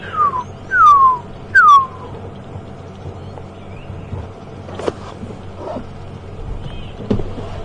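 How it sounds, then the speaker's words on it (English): Three clear descending whistles repeat about once a second from a pearl-spotted owl, then quieter scattered sounds and faint clicks follow in an outdoor setting. "You can also hear a beautiful pearl-spotted owl."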